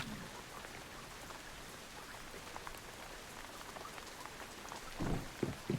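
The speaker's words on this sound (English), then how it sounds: "why does it have to rain?" Rain falling in a video game, a steady soft hiss of drops on surfaces, faint and continuous, with a few louder bumps near the end.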